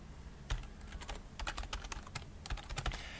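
A computer keyboard tapped out in a quick, uneven burst of light clicks, fairly quiet and close, with short pauses between words and no voice.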